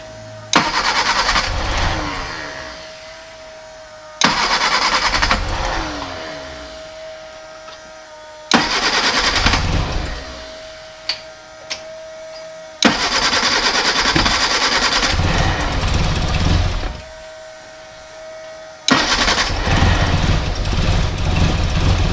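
A Jet Motors powered engine in a Black Mosquito 1310 build cranks and fires repeatedly, with loud bursts of revving, roaring combustion separated by brief quiet pauses and sputters, up close.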